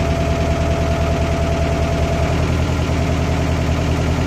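A Massey Ferguson 698 tractor engine revs close by with a loud, steady, throbbing drone that holds constant throughout.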